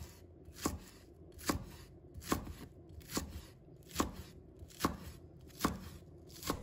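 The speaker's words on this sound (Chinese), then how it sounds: "把它切成片" A knife slices a length of green onion on a cutting board, eight evenly spaced crisp chops close up with quiet pauses between.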